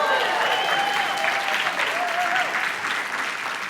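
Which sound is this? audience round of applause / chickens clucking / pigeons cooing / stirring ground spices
audience round of applause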